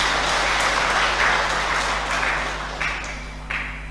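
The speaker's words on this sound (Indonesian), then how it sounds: "Tepuk tangan lebih bandu tuh." A congregation applauds at a church building inauguration service. The clapping is dense and sustained but fades gradually, over a steady low electrical hum from the sound system.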